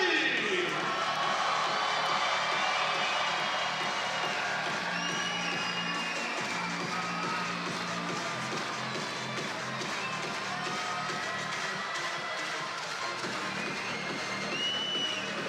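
Crowd at a futsal match between France and Argentina roaring and cheering in an indoor arena, a dense, continuous wall of shouting and whoops with scattered clapping throughout.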